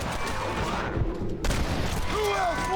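Winchester rifle shots in Red Dead Redemption, firing in a loud, dense burst of reports with a brief quiet gap near the middle before the shooting resumes.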